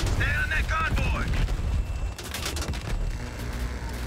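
Gunfire and explosions in Call of Duty Black Ops Cold War, during a helicopter mission, come as a loud rumbling barrage of booms and shots, with radio-style game voices over the opening part.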